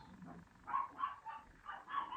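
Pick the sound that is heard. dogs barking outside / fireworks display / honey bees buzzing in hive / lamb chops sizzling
dogs barking outside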